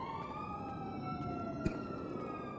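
Police and emergency sirens wailing in GTA V on the NoPixel roleplay server, steady overlapping tones sweeping slowly in pitch, moderately loud and continuous with one brief sharp knock midway.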